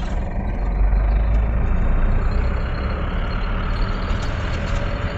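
A vehicle's engine drones steadily while it turns on a road toward Pusegaon, a loud continuous low rumble with road noise throughout.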